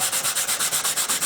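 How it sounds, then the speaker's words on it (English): Brisk, rhythmic hand sanding with a 400 grit sanding block cleaning dirt off car parking brake parts, about ten quick back-and-forth rasping strokes close up, bright and scratchy, with no talking. "400 grit sanding blocks. These are terrific. Just to clean all of the dirt off."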